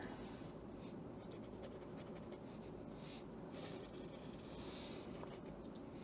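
Pen scratching across paper while sketching a side view of a dinosaur with a ridge for Inktober, a steady, close, dry scraping texture with brief pauses between strokes.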